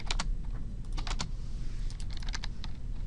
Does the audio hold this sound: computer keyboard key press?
yes